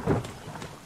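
Rain with a low rumble of thunder in the survival game The Forest, a brief burst of thunder up front fading into steady rainfall, no talking.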